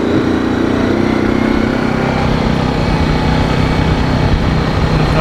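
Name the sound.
big green tractor engine running during ride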